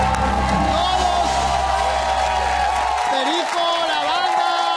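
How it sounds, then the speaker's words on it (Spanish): A studio audience on a television talk show claps and cheers over music, with whoops and crowd noise filling the room and a voice briefly heard. "Dar aplausos para todas ustedes."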